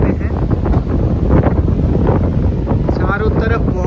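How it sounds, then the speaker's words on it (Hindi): Strong wind buffets the microphone in a constant roar at Sissu village in Lahaul, Himachal Pradesh, with a voice talking underneath it throughout. "चारों तरफ बहुत तेज़ हवा चल रही है, आपको आवाज़ सुनाई पड़ ही रही होगी।"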